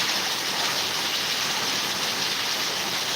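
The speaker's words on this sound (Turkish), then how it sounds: "Ne güzel yağıyor." Steady, dense rain pours down over a Turkish village, a continuous even hiss of falling water with no pauses and no voices.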